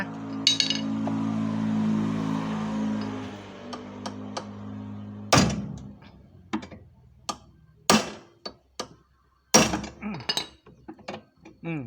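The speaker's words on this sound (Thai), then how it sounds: "นี่นะใช้ค้อนตอกไปเลยนะ" A hammer taps repeatedly at a tight part on a Hitachi washing machine that will not spin dry, giving sharp metallic knocks in irregular bursts after a mechanical hum fades out.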